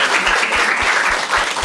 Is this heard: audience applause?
yes